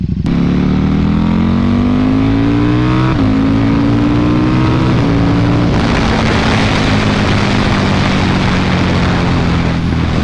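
A KTM RC8R sport bike fitted with a Jester exhaust revs loud and close, its engine note climbing steadily through several rising sweeps with brief dips between them, then settling into a rough, steady roar.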